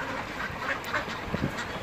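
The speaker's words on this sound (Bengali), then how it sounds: "তো দেখেন এই হাঁসগুলো কিভাবে খাবার খায়, আপনারা একটু দেখেন।" Pekin ducks quack steadily while eating at morning feeding on a duck farm, a dense, close flock chatter running throughout with a few louder calls near the end.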